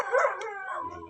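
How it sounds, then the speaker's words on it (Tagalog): A guard dog lets out a single close, drawn-out bark that slides into a howl, loud and tonal, fading toward the end, with no talk over it. "Yung mga bantay niya ng aso, alam na talaga may tao."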